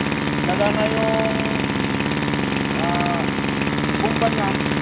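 A small motor on a water sprayer runs at close range, a loud, steady, rapidly pulsing mechanical chug that never lets up, with a person talking over it.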